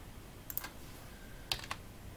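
Light, sparse clicks of typing on a computer keyboard while coding in JavaScript: two small bursts of keystrokes, faint and close, with no talk.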